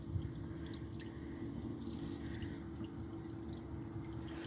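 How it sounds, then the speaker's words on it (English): Water leaking and dripping through a valve in an indoor hydroponics lettuce-growing prototype, a steady low wash of running water with faint drips, continuous and fairly quiet throughout. "looks like we're losing all of our water through the valve"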